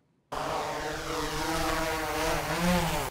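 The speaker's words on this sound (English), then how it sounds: "When Deputy Brandon Cordes puts a drone into the sky." A police deputy's drone takes off and flies, giving a loud, steady propeller whine and buzz with rising pitch that holds for about three seconds after a brief quiet start.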